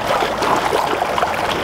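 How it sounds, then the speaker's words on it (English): A gold pan swishes under stream water as it is washed, a steady loud rushing and sloshing of water close by with no talk. "you put your pan under the water, get everything wet and just wash it"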